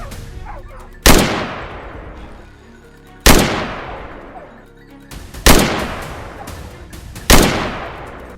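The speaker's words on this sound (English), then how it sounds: "Only when they reached an open area could we open fire." Four loud, close gunshots ring out during a wild boar hunt in deep snow, spaced about two seconds apart, each a sharp crack followed by a long echoing decay across open terrain.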